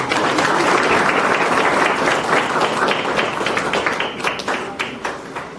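Loud, dense applause from an audience at a Guru Purnima gathering, sustained hand clapping that thins toward the end with some individual claps standing out.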